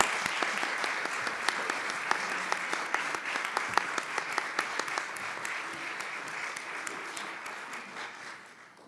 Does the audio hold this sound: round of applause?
yes